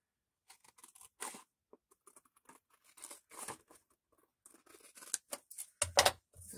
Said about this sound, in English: we're going to cut this off right here.